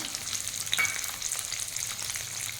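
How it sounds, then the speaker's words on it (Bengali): Sliced onion hitting hot oil with ginger and garlic, giving a steady close sizzle and hiss with a brief sharper crackle near the start and no voices. "তারপরে দিয়ে দেবো ঠিক এরকম করে কাটা পেঁয়াজ"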